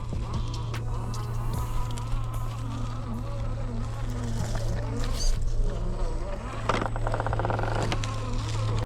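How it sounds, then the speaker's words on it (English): Large RC Toyota Land Cruiser truck slowly crawling over rocks in low gear, its motor giving a steady whine throughout with a continuous low hum, plus occasional clicks and scrapes near the end. "Look how slow and smooth this truck is crawling now. That motor change really made a difference."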